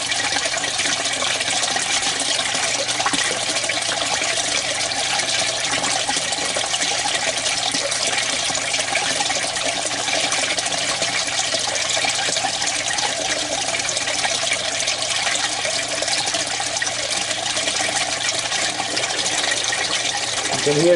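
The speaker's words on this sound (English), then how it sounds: "So it's actually filtered water coming through and going back down into the tank." Filtered water in an aquaponics system runs steadily back down into the fish tank, a continuous broadband rush and trickle that holds even and close throughout with no break.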